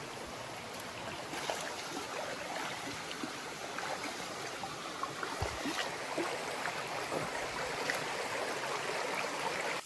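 A river stream flows along the Mt. Sandayong hiking trail in the Philippines, giving a steady, close wash of rushing and trickling water that fills the whole stretch with no voices.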